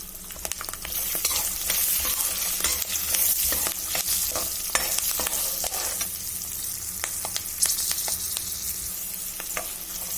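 Peanuts with green chilli and turmeric stir-frying in a pan, with a loud continuous sizzle and crackle broken by repeated scrapes and taps of a spatula being stirred through.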